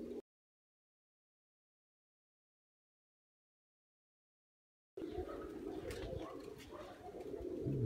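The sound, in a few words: pigeons near a water basin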